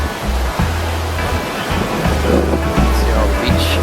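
Waves wash continuously on Kite Beach in Cabarete, Dominican Republic, a loud broadband surf roar with repeated low rumbles, heard close along the beachfront with no talk.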